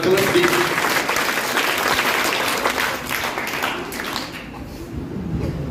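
Audience applauding at a quiz competition held for Gandhi Jayanti, sustained clapping from a crowd that eases off slightly toward the end.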